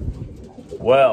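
A pet racing pigeon coos once, a short warbling call at close range, right after a brief spoken word.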